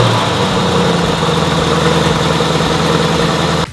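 A 2015 Mercedes-Benz SLK 55 AMG hardtop convertible's hand-assembled engine runs at a steady, loud, rumbling idle close by, then cuts off abruptly near the end.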